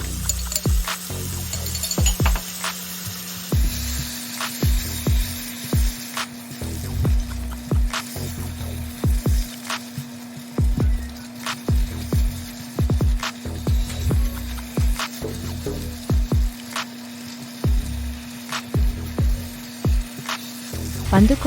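Tomatoes sizzling and stir-frying in a pan for a tomato tofu lasagna as peas are added, a steady crackling fry with repeated scraping and stirring hits, plus a constant electrical hum underneath.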